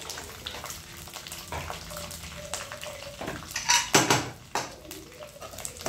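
Dried red chillies splutter and crackle in hot oil in a pan, irregular popping and sizzling that grows busier and louder partway through, heard close.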